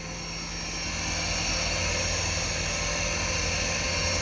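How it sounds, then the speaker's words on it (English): The spindle of an Excalibur TAC2000 CNC mill spins up and runs at a steady speed, a loud continuous whine and hum that rises over the first second and then holds constant. "I'm just going to turn the spindle on by pushing counterclockwise"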